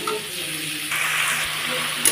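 Spices and vegetables sautéing in a pan for a fish curry, a short burst of even, close sizzling that swells slightly partway through.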